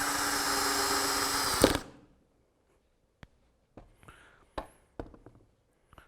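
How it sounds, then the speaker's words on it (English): Drill or impact driver sinking a screw into wood: a loud continuous motor whine for under two seconds that stops abruptly, followed by scattered quiet clicks and handling taps. "So that's putting in screws."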